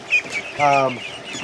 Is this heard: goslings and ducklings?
yes